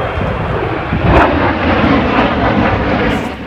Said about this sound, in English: And another airplane.